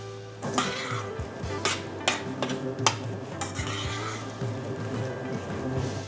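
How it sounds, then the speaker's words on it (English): Spoon stirring basil into ratatouille in a metal pan in a restaurant kitchen, several distinct clinks and scrapes over a faint sizzle, close and fairly quiet. "So I'm going to add this to the ratatouille now, which will add that beautiful freshness and lovely vibrancy. Just going to stir it in"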